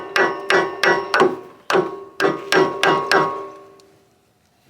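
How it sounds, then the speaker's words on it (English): A hammer taps on a stuck piston in the engine of a neglected 1983 Honda Odyssey FL250 go-kart, eight loud metallic blows in an uneven rhythm, each ringing briefly, then silence. "We're gonna start tapping on the piston."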